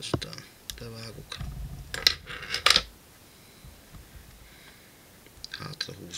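Small scissors snip and click at a fly-tying vise while a cripple dry fly with CDC feathers is being tied, several sharp close cuts in a quiet room amid faint handling noises.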